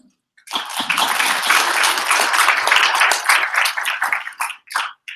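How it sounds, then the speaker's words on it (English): Audience at a Boston spring reception applauds with loud, dense, continuous clapping that thins into scattered claps before stopping. "Let's give them another applause."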